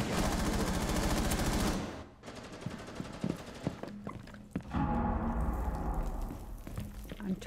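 Gunfire in the Rainbow Six Siege video game: a dense, loud burst of automatic fire at first, then scattered shots and thuds further off, with brief talk.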